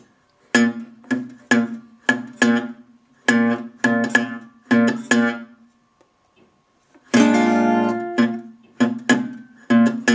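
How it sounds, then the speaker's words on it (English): Acoustic guitar in dead-thumb style for a blues song: plucked notes with a percussive muted thumb attack in short rhythmic groups, a pause, then a fuller strummed chord followed by more thumped bass notes. "then he goes into this dead thumb technique"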